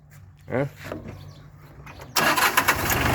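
A Japanese imported farm tractor engine cranks and catches at about two seconds, then runs loud and rough nearby, with people talking before it fires.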